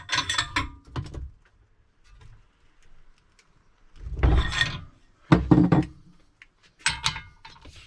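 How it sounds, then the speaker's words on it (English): A brace is tightened against a car's CV joint and drive shaft, giving a few separate bursts of metallic clunks and ratcheting scrapes, close and fairly loud, with quiet gaps between them. "Tighten the brace."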